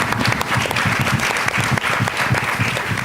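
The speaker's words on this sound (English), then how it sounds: "That deserves some claps." Audience clapping at a conference session, a short burst of dense applause with some rhythmic claps audible within it, steady throughout.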